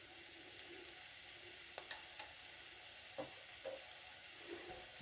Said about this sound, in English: You just want to stir it for a little bit.